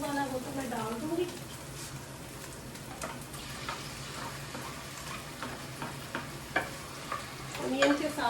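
Onions frying and browning in a pan as they are stirred, a continuous soft sizzle with occasional scraping clicks of the utensil, while a voice talks over it early on.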